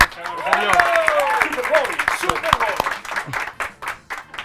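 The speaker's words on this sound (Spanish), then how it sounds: "No, aplaudan primero." A studio audience at a live comedy podcast taping applauds while voices talk and laugh over it, and scattered sharp claps carry on as the talk fades.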